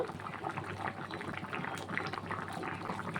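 A jackfruit curry gravy with shrimp simmers and reduces in a pan, giving a steady, soft bubbling and popping that stays low and even throughout.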